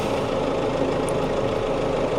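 A steady, rumbling tractor engine idles continuously at close range, a dense even drone with no breaks or voices.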